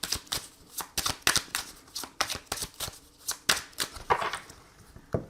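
Oracle cards being shuffled and cut by hand: a rapid run of crisp riffling flutters and soft slaps, close and clear, in uneven bursts with no talking.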